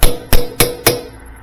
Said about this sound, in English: we can reseat it with a small tap of a hammer and like a 1/2 inch socket